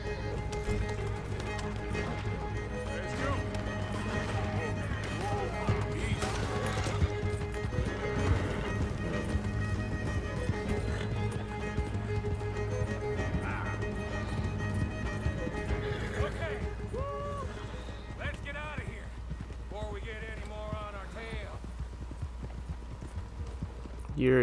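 A horse gallops in Red Dead Redemption 2, its hooves clip-clopping steadily and close throughout, with a few whinnies. Voices and game sounds sit over the hoofbeats.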